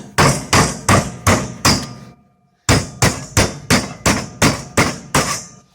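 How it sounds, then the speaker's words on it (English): Sharp metallic hammer strikes on copper pipe fittings from a scrapped hot water boiler, in quick even bursts, five blows, a short pause, then eight more, each ringing briefly, loud and close. "I should be able to get a hammer and just,"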